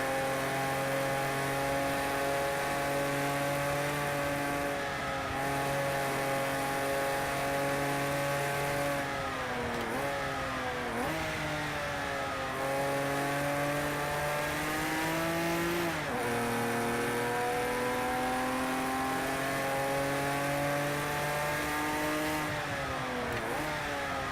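A Porsche 911 Carrera RSR engine in the Project Cars racing game strains up a hill on the Nürburgring Nordschleife, a loud, sustained, buzzing drone that rises and dips through several shifts with no talk.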